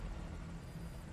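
Helicopter arriving in the video game Metal Gear Solid V: Ground Zeroes, a steady, loud broadband rotor and engine roar that holds through the whole brief moment with no talk over it.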